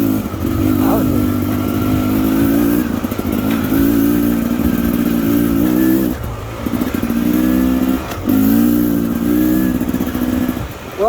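A 2022 Beta Xtrainer dirt bike fitted with a fatty expansion pipe is ridden on a rocky trail, its two-stroke engine buzzing loud and close, revving in surges with brief throttle dips and faint clatter.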